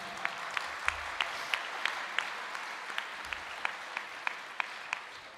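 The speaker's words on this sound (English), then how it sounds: "Give Blythe a round of applause, please." Audience applause at a senior inspiration awards ceremony, a sparse, fairly quiet round of clapping with distinct individual claps standing out at a steady pace through the whole stretch.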